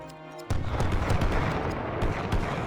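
Heavy artillery shells bursting on a Great War Western Front battlefield in a video game, a sudden loud blast followed by a dense, continuous rumble of booms and scattered impacts close by.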